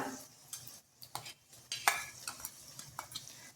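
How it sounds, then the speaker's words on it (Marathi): Soft sizzling of crushed garlic frying in tempering oil, broken by scraping and stirring clicks from a utensil against the pan. "पाच सहा लसूणच्या कड्या मी ठेचून घेतल्या आहे खलबत्त्यामध्ये त्या आपण घालूया"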